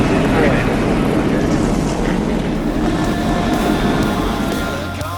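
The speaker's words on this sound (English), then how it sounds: "As engines begin to fire, let's take a look at your starting lineup for today's race." Stock car engines starting before a NASCAR night race at Texas: a loud, continuous, rumbling engine roar that sits close and easing slightly toward the end.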